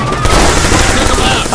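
Dense, loud gunfire in the Watch Dogs video game, with rapid overlapping shots and booms running without a break.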